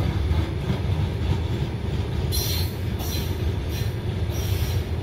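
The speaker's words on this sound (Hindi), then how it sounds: "देखो मालगाड़ी है" A long goods train loaded with coal rolls past close by, its wagons rumbling heavily while wheels give out repeated high squeals.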